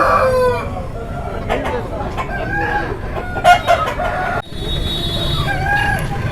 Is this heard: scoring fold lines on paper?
no